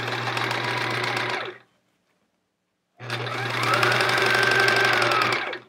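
A sewing machine joins quilt pieces in two loud, close bursts of steady whirring stitching, broken by a pause of about a second and a half of silence.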